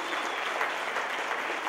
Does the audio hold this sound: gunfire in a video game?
no